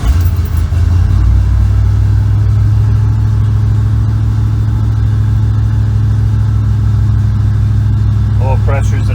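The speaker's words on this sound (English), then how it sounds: "let off of it, and start the truck" A restomodded 1946 Chevy truck engine catches and settles into a loud, steady, close idle with a deep low rumble, running continuously throughout.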